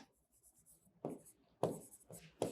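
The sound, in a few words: writing by hand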